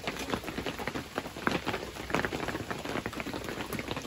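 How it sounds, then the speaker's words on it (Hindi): Monsoon rain falls steadily at Matheran hill station, a dense, even patter of drops on surfaces close by, with no voices. "बारिश भी स्टार्ट हो चुकी है"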